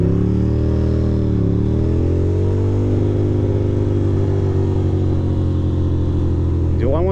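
A Ducati motorcycle rides through Queens near the BQE, its engine giving a steady, loud drone with shifting harmonics and a brief rev toward the end.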